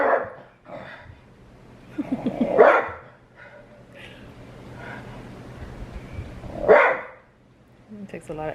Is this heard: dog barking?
yes